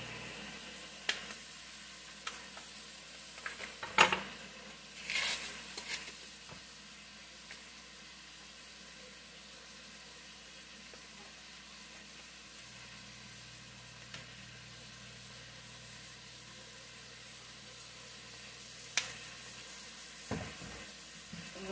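Italian sausage and kale cooking in a soup pot give off a steady, low sizzle that runs throughout, with a few soft clatters early on and no voices.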